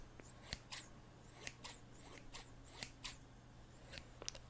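Close-up scissors snipping, about a dozen crisp cuts at an uneven rhythm over a faint steady hum.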